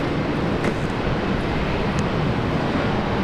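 A small Rex Saab turboprop airliner at Brisbane Airport gives a continuous broad roar, loud and steady without a clear rise or fall, blended with wind buffeting on the microphone.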